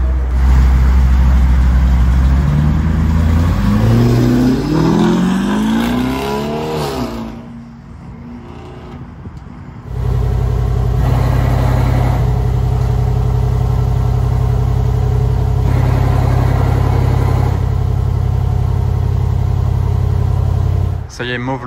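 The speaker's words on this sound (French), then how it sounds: "Ah, ils viennent de démarrer le Montsori dehors." A Mansory-modified Mercedes G63 starts and pulls away outside a Dubai showroom: a deep engine rumble rises with revving, drops off, then settles into a steady loud drone close by, with people talking over it.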